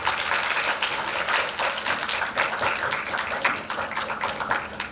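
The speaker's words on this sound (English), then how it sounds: "Please give a round of applause to Dr." An audience at a medical CME conference on endoscopic spine surgery applauds a doctor, a dense, even patter of many hands clapping from across the hall, continuing steadily throughout.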